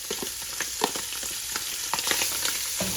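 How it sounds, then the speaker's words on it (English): Kielbasa sausage with onions and freeze-dried garlic fries in a pan, making a crackling sizzle over a steady hiss, with frequent irregular pops and stirring clicks. "the sausage is almost done. Now we're going to add our onions"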